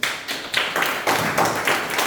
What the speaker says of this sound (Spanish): Denle un aplauso a Dios esta noche.